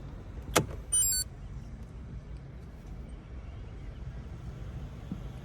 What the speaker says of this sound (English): let me just turn the car off and show you what I mean.